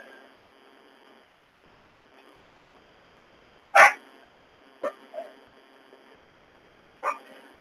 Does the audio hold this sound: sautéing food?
no